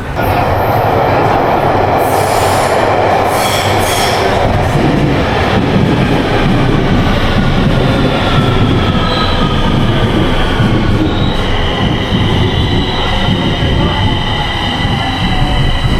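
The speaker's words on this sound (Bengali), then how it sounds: "ট্রেন চলে এসছে বেজিং ওয়েস্ট রেল স্টেশন" A Beijing subway Line 4 metro train pulls into an underground station, a loud continuous rumble with wheel squeal and high screeching tones rising over the roar, no talking.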